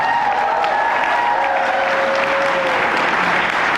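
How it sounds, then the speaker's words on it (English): Loud, sustained applause from a crowd at a political event, continuous clapping throughout with a bright tone riding over it. "Let's give these guys a round of applause"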